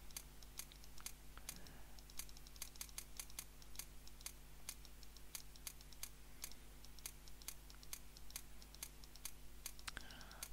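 Clicks on an on-screen keypad spelling out a word in a hidden-object puzzle game, a run of sharp, evenly spaced taps, faint and close against a low electrical hum, no talking.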